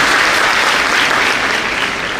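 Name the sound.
audience applause to encourage performers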